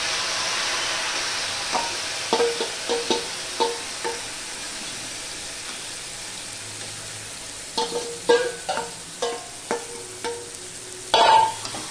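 Marinated mutton goes into a pot of tempered spices for mutton biryani, a soft sizzle under repeated sharp spoon knocks and scrapes in two bursts, ending with a louder clatter, close and without talk.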